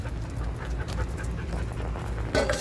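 A dog outdoors on grass pants in a steady, quick rhythm close by, with a brief louder huff near the end.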